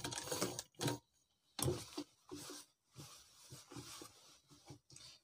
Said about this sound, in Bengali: তার ক্ষেত্রে আপনারা যে সেলাইটা নিয়েছিলাম লব সেলাই প্রথমে, সেটার একবারে উপরে সেলাই করে নেব এটা।